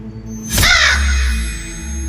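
A single harsh crow-like caw used as a story sound effect for a bird flying into a living room, one loud close cry with a slight echo trailing off over a low hum.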